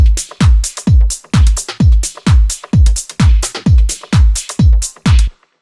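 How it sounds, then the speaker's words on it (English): Glitchy electronic percussion loop processed with a Tantra effect: a steady, evenly spaced chain of punchy hits, each a deep thump dropping in pitch with bright crackling on top, loud and dry, repeating in a tight rhythm. "We've got a percussion loop, which I've put a tantra on"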